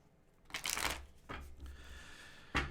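Tarot cards shuffled by hand in three short, close bursts of riffling, each a crisp papery flutter with quiet pauses between.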